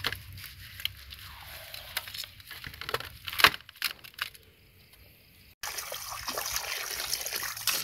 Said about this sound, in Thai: รูดเกลือแล้วก็มาล้างน้ำสะอาดออกอีกจ้า